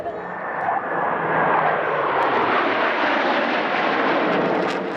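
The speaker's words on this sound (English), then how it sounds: "My favorite is those planes that had the hard jets." Jet aircraft passing at an air show in the Smoky Mountains, a loud, broad roar that swells and holds steady for several seconds as the plane sweeps by close overhead, with no voices over it.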